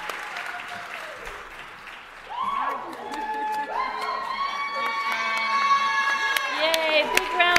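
Applause and cheering from an audience at a university fashion show award presentation, swelling steadily over several seconds with whoops and shouts on top; a voice speaks over the crowd near the start.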